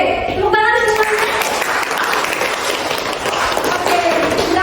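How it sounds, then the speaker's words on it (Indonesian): A class claps together in a steady, dense burst of applause lasting several seconds, loud and close, with a few voices mixed into the clatter. "Oke, tepuk tangan semuanya."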